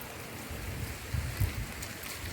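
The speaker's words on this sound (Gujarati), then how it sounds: "ધોધમાર વરસાદ પડે છે મિત્રો" Heavy downpour on an open rooftop terrace, heard as a steady, close wash of rain noise with a couple of low thumps partway through.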